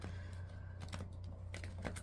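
Oracle cards shuffled by hand on an altar make crisp, close riffling clicks in short bursts over a steady low hum.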